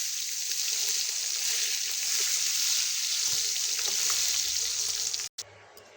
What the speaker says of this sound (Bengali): পেঁয়াজটা ব্রাউন কালার করে ভেজে নিলাম